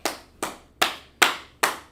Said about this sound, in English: Clap it up for Aisha.